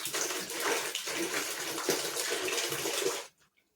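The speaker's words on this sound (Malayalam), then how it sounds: "അപ്പം നമ്മൾ ഇതുപോലൊരു കുപ്പി എടുത്തിട്ട് ഒന്നര ലിറ്റർ വെള്ളം ചേർക്കണം" Water pours steadily into a plastic bottle, about one and a half litres being added, a continuous close splashing gush that runs for about three seconds and then stops abruptly.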